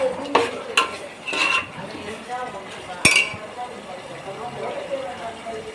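Yogurt being sautéed and stirred in a pan for vegetable biryani, with spoon clinks and scrapes in a few sharp bursts over a soft sizzle, a voice talking throughout.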